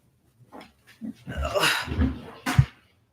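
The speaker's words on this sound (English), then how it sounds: "He shut the drawer and he got scared. Sometimes he barks at stuff" A startled dog barks a few times after a drawer slams shut indoors, with a sharp loud bark near the end, close by, while a person talks around it.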